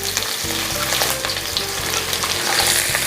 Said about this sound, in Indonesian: Saya tumis-tumis sampai mengeluarkan aroma yang wangi juga